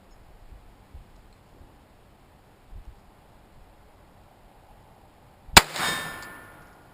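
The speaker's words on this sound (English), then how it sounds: "So this will be the first shot of the mini mag." A single sharp gunshot from a Ruger 22/45 pistol firing CCI Mini Mag .22 ammunition cracks loudly near the end after quiet, with a short ringing tail and a few faint ticks before it.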